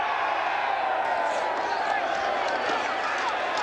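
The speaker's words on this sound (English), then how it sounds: "A very enthusiastic crowd on hand here at the Meadowlands" A large, enthusiastic crowd fills the Meadowlands stadium during a 1992 WLAF football game, a steady roar of cheering and whooping that holds loud and continuous throughout, with a voice speaking over it.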